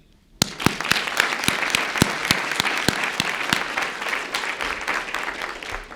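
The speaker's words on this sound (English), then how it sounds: "put our hands together and give a round of applause for our leadership team" An audience applauding a leadership team at a gathering, starting abruptly with sharp, distinct claps that quickly merge into sustained, fairly loud applause across the room with no talk.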